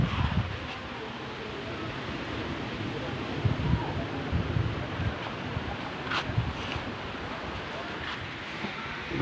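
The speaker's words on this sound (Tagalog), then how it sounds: "Malakas po hangin." Strong gusty wind buffets the microphone outdoors by the water near a hut, a steady roaring rush with occasional louder gusts throughout.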